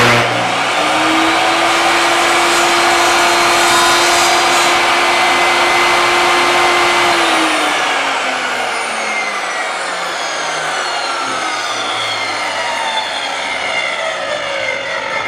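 A power saw cuts a piece of lumber for a wooden book storage repair, a loud, steady whining drone through the cut that then winds down, its pitch falling as the blade slows.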